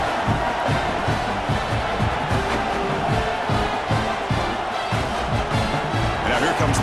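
A home crowd roars steadily through a college football game between B2A and OSU, loud dense cheering filling the stadium with no break, a voice talking faintly beneath it.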